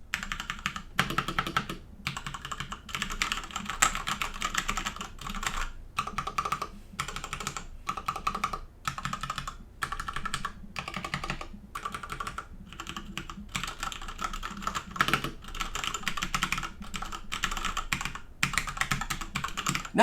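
Mechanical keyboard with ABS sprayed keycaps typed on steadily for about twenty seconds, a dense run of close clicky keystrokes with brief pauses, heard alone without talk.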